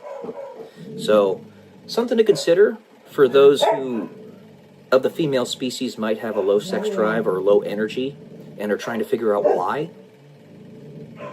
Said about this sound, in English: Apologies for the dogs.